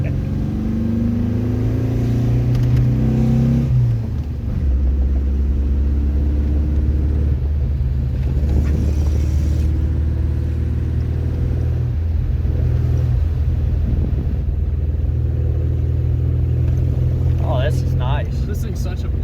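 A small 80-horsepower vehicle's engine drones steadily and loud while driving, with a low rumble and shifting tone, and someone talks over it.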